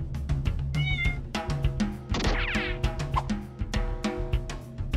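A cat meows several times in quick succession, close and clear, with a longer drawn-out cry in the middle of the run.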